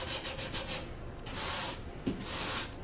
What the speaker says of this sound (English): the sandpaper is going to put some scratches in here